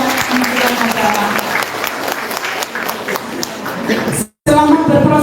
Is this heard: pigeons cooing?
no